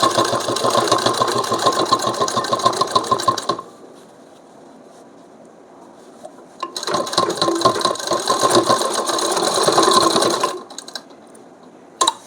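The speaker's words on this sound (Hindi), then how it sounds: "उसके बाद आगे सिलाई लगाएंगे इसमें।" A sewing machine stitches a kurti collar in two long, steady runs of fast mechanical whirring, separated by a few seconds of quiet, with a brief faint rattle at the very end.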